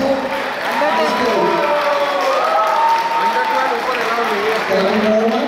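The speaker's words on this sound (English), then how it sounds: "Give a big round of applause for these lovely people." Town hall Diwali audience applauding Indian pop dance performers: continuous crowd clapping with cheering and excited voices on top, loud and close.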